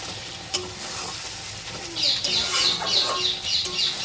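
Chicken curry with garam masala stirred in a pan: a steady close sizzle sounds under repeated scraping strokes of a spoon against the pan, with a sharp knock near the start.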